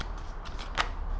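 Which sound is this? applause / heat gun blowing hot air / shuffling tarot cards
shuffling tarot cards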